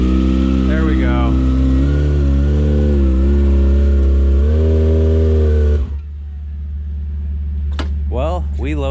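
A stunt motorcycle holds a loud, sustained high-rev burnout close by, engine pitch shifting, then drops to a lower idle as a voice speaks briefly.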